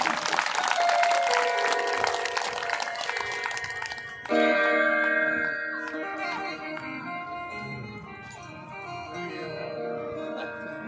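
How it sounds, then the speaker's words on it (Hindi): Devotees applaud to welcome a saint at a Narmada Mahapuran katha, a dense wash of clapping heard together with sustained ringing bell-like musical tones that carry on after the clapping thins. "बोलो संत भगवान की जरा तालियों से स्वागत कीजिए"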